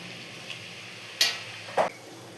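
Onions frying for chicken in a large wok, a low sizzle with two short stirring scrapes of the spatula against the pan, close and fairly quiet.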